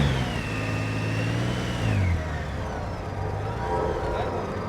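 Motorcycle engine idling and rising slightly in pitch at low RPM during slow speed riding practice, steady and close with background noise, and a voice speaking over it.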